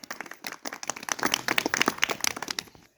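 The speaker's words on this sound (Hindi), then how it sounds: "इसी के साथ ताली बजाओ।" Scattered hand clapping from an audience at a Hindi recitation event, a few distinct claps at first, then thickening into moderate, uneven applause before cutting off abruptly.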